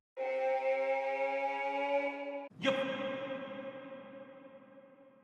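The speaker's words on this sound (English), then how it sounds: "now we have that reverb that we want" A sustained harmonic vocal sample tone cuts off abruptly and gives way to a washy reverberant tail that slowly decays, with no talking, in a big room electronic dance track.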